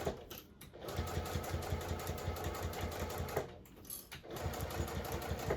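A sewing machine runs a long seam on a zippered tote bag, its rapid needle clatter steady and close, pausing briefly twice before resuming.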